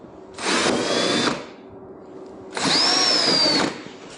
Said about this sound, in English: Go back and drill out those two smaller